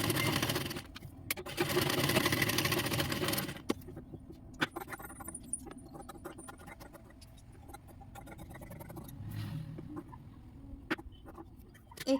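A sewing machine top-stitches a blouse sleeve in one steady, dense run of whirring, then stops, leaving quieter clicks and handling noises close by.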